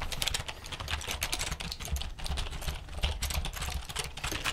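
Fingers type rapidly on an old-school computer keyboard, a dense, continuous clatter of close keystrokes with no pauses.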